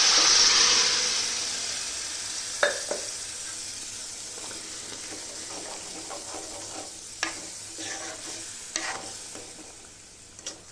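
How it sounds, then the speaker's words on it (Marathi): Boiled chickpeas from a pressure cooker tip into a hot pan, setting off a loud bright sizzle that settles into steady frying, broken by a few sharp clicks and scrapes of stirring. "आता हे चणे जे शिजलेले आहे कुकरमधले, आता ते टाकते"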